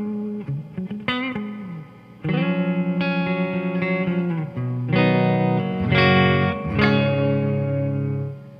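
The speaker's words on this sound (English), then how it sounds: "just the reverb of the amp" Gibson LPJ electric guitar played through a Fender '68 Custom Deluxe Reverb reissue amp using only its built-in reverb, a run of picked single notes and ringing chords with a lush reverb tail, loud and close.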